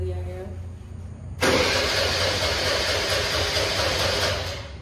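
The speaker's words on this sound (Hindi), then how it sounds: "फाइनली इतने देर जद्दोजहद करने के बाद हमारी स्कूटी स्टार्ट हो गई है।" A scooter engine catches after a quiet stretch of low idle hum, bursting into a loud steady running roar that continues close by to the end.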